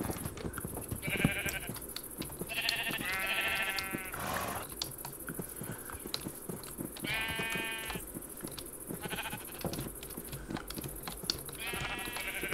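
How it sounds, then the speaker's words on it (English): Several sheep in the Minecraft video game bleat in a series of loud, wavering cries, some overlapping, over a busy backdrop of soft clicks and ambient hum with no talking. "I need to corral the sheep"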